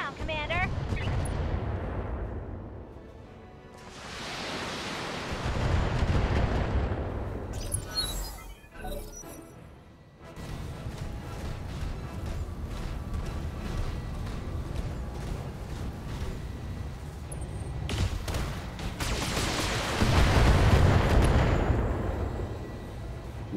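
Heavy mech weapons fire in the BattleTech video game, with repeated loud booming blasts and sweeping whooshes rolling through the whole clip, sometimes bunched into bursts, with a voice speaking faintly beneath the barrage.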